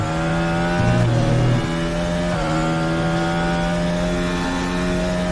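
Race car engine in the RaceRoom sim, an FRX22 formula car at Imola, revs hard with a brief wheel-spin flare, steady loud harmonic drone throughout with a pitch wobble near the start.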